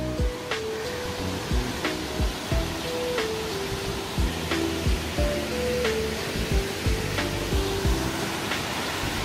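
Heebang Waterfall in the Sobaeksan valley pours a cold stream in a steady, broadband rush of falling water, close and continuous with no voices.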